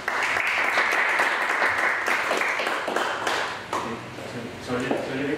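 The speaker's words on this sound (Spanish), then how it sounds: "Un aplauso, por favor." An audience at a lecture on contemporary Latin American literature applauds, dense clapping that thins into scattered individual claps as it fades.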